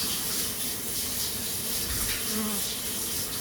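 Tap water runs steadily from a faucet in the Scarlet Hollow video game, a soft continuous hiss and splash that stays level throughout, close and moderately quiet with no talk.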